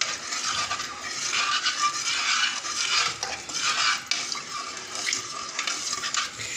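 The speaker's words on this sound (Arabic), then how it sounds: "واقلب الملح كده بقى لما يدوب معايا" Salt and sugar being stirred in a container so they dissolve for pickling apple olives, a steady close scraping and swishing that runs continuously without pause and without voices.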